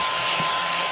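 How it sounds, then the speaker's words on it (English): A spray-and-scrub vacuum cleaner hoovers with a steady, loud airy whine, close and continuous for under a second. "I can scrub it and also like hoover at the same time"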